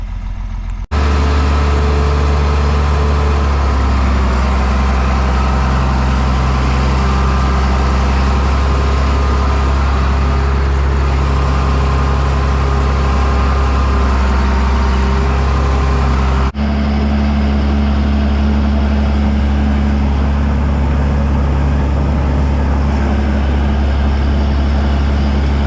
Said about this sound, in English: going around the headlands 6 times, which is enough for me to turn the tractor and pivot the mower around